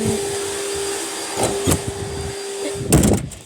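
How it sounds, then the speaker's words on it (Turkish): A steady vacuum cleaner drone runs in the background, with a constant hum and a few louder bumps and rustles near the end. "süpürge sesi geldiği için."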